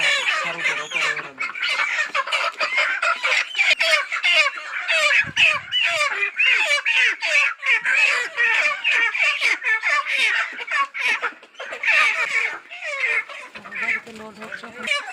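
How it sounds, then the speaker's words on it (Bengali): Poultry chickens on a farm are loaded onto a vehicle, filling the air with a dense, continuous chorus of close, loud squawks and clucks from many birds at once. "মুরগিগুলো নিয়ে যাচ্ছে এই যে মুরগিগুলো।"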